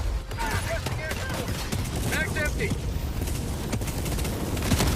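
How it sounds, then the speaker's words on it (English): Gunfire from the Helldivers video game comes as a dense, continuous barrage of rapid shots and blasts, layered with chaotic battle effects throughout. "This is what shooting looks like in Helldivers."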